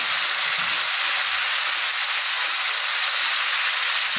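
Lentils tipped into hot fried ingredients in a pan for a mashkalai dal with catla fish head, giving a steady, loud, unbroken sizzle and hiss throughout with no talk.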